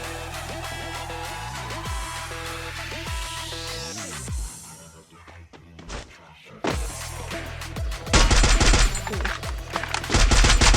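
Rapid automatic gunfire from the battle royale video game Free Fire, bursts of machine-gun shots alongside sweeping tonal game effects and music, growing louder and denser toward the end.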